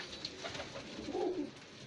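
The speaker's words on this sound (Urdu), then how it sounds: "یہ کبوتر ہے" A pigeon of a fancy breed gives a low, soft coo near the middle, close but gentle, against a quiet room background with no talk.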